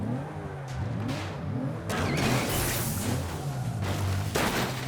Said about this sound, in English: So that drifting sound is really bizarre as well.